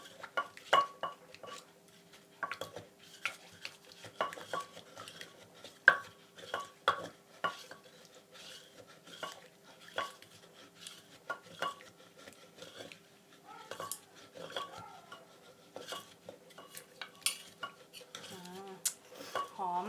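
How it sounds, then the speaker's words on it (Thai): Corn som tam dressing of tamarind sugar and fish sauce being stirred and pounded in a bowl, a long run of irregular clinks and scrapes of utensil against the dish, close, with occasional talk mixed in. "บี้ส่วนผสมให้เข้ากันดีค่ะ คือให้น้ำตาลมะขาม แล้วก็ น้ำปลาที่เราใส่เมื่อกี้ค่ะ"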